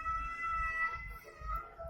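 A cat during a fight gives a tense, drawn-out yowl, a sustained wavering wail with steady low rumble beneath, loud and close throughout.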